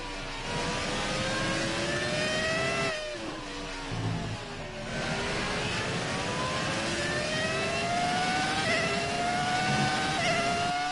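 A Formula 1 car in the racing game F1 2019 screams at full throttle, its high engine whine climbing through the revs with a brief dip at a gear change before pulling hard again.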